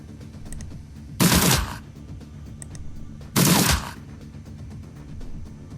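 Gunfire in the video game Shadowrun: Dragonfall comes as two short, sharp bursts of shots a couple of seconds apart, loud against a quiet game background.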